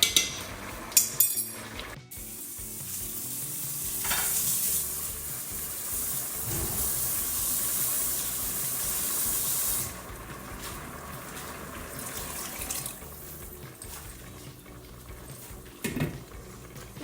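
A pot of rice bubbles and simmers steadily over high heat with a soft hiss, joined by occasional clinks of a lid or utensil against cookware, close by.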